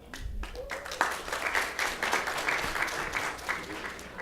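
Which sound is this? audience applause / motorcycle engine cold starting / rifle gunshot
audience applause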